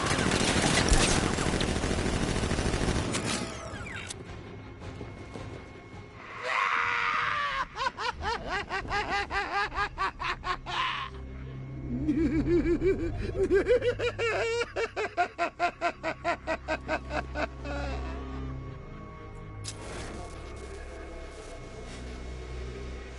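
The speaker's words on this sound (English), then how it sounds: "Guard! Open fire! Shoot everything!" Guards opening fire in the video game Batman Arkham Knight: rapid bursts of automatic gunfire come in several volleys amid game effects, with a loud noisy stretch at the start and rattling rapid shots later on.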